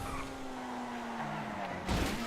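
A Pfister 811 sports car in GTA V skids as it brakes into a corner after a high-speed run. A steady tire squeal and engine tone hold throughout, ending in a louder scrape.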